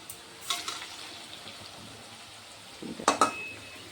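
Potatoes frying in oil until crisp: faint sizzling with a couple of brief clinks and stirring scrapes from a utensil in the pan, quiet and close.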